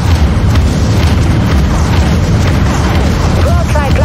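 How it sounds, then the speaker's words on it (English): Vulture missiles launch and explode in the space battle game Dreadnought, a dense, loud roar of blasts and rumbling booms layered with battle noise and faint synthetic chirps near the end. "Launching vulture missiles."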